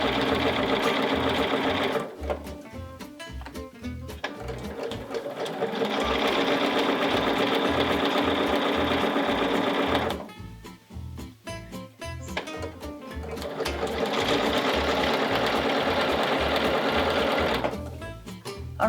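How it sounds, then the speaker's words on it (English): A sewing machine stitches along a quilt edge in two long runs of rapid, even mechanical whirring, close and loud, separated by a short pause and ending briefly afterward. "So now I'm just gonna stitch along this edge."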